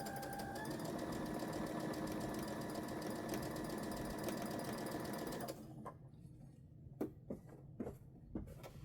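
A digital sewing machine stitches a half-square-triangle quilt block in a loud, steady mechanical whir for several seconds, then stops, leaving a few scattered clicks and taps.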